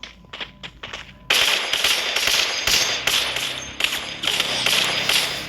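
Rapid video-game gunfire from a lone wolf battle royale match, a few sparse shots followed by sustained loud bursts of automatic fire with sharp cracks, close and dominant.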